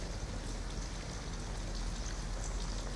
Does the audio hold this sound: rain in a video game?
yes